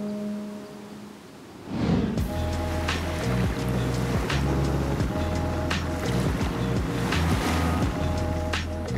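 A boat cruises along a branch of the Paraná river near Escobar, its steady engine hum and water wash starting after a short quiet moment and continuing loud and close with wind buffeting the microphone.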